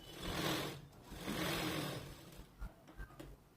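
A sewing machine runs a second seam along a blouse edge in two short bursts of stitching, close and fairly quiet, followed by a few light taps as it stops.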